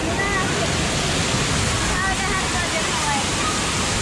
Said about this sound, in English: Look at the water slide.